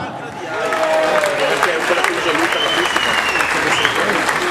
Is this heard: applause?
yes